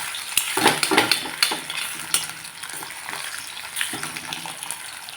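Potatoes frying and being stirred in a pan over a medium gas flame for a fasting bhagar dish, with a steady sizzle broken by repeated scraping stirs and the clink of a spoon against the pan.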